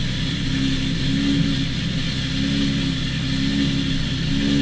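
An 830 WHP Nissan Silvia drifting through the S curves at Road Atlanta during a Grid Life event, its engine holding a loud, steady, droning note with slight rises and falls in pitch as it sustains the slide.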